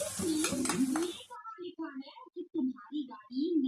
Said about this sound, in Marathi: पुन्हा थोडंसं तेल ऍड करून मस्त असा कांदा परतून घ्यायचा